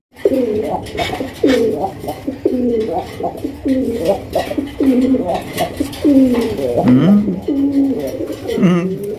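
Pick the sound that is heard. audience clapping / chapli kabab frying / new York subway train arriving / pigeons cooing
pigeons cooing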